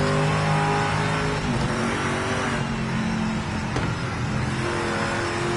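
Race car engine in Project Motor Racing, a Mosler N-GT on the Bathurst circuit, roars loudly and steadily with revving pitch changes and gear shifts, continuous and close throughout, no talk.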